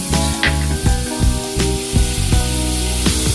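Butter melting over low heat in a pan for Cajun-style New Orleans barbecue shrimp, a close, steady sizzle and hiss with small recurring pops and spatters, alone without talking.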